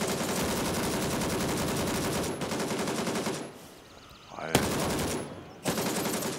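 Sustained automatic gunfire in the shooter game Gray Zone Warfare as a full magazine is emptied, a dense loud rattle that cuts off briefly, drops into a quieter gap, then resumes in further bursts.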